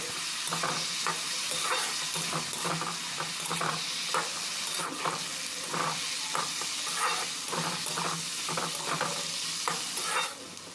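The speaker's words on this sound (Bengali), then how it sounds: "রসুন বাটাটা দিয়ে এক থেকে দেড় মিনিট ভালো করে নাড়াচাড়া করে নিতে হবে" Garlic paste fries in oil with potatoes and drumsticks while being stirred steadily, a dense hissing sizzle under a regular run of scraping and clattering strokes that lasts throughout.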